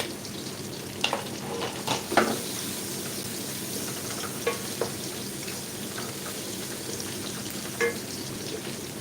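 Chopped onion and garlic fry steadily in a pan, a constant soft sizzle with a few faint stirring clicks scattered through it, close and moderately quiet.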